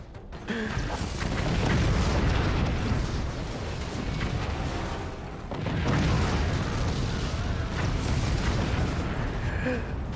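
Howitzer shells exploding in the artillery game Forts: loud, dense rumbling blasts that swell in two long waves, layered with crackling bursts and no speech on top.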